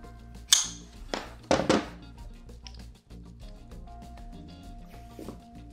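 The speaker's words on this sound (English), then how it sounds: "These are actually wire cutters, but they're a two-sided cutter with curved jaws." Two-sided curved-jaw wire cutters snipping a 6-millimeter pneumatic air hose, giving a few sharp close snaps, one single and then a quick cluster, against quiet background hum.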